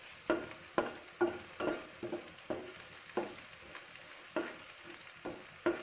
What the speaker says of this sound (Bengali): এবার এগুলোকে আবার নাড়াচাড়া করবো।